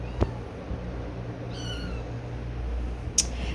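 Foster kittens give a single short, faint meow near the middle of the clip, with a brief knock or thump at the start and another at the end over a steady low hum.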